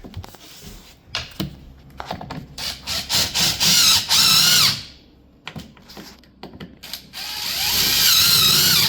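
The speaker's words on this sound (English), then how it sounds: "Put a screw on the edge here." A power drill drives a screw into the edge of laminate flooring, with bursts of whirring and ratcheting close by, separated by short pauses, then a longer final run.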